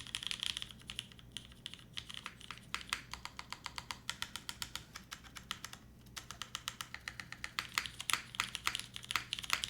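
A custom-built Ayleen mechanical keyboard is typed on steadily at close range, with dense, crisp key clacks in quick bursts and one brief pause.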